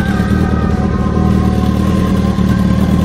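A cartoon motorcycle on a road, running low on petrol, gives a loud, steady engine drone that holds even for three seconds, with no speech.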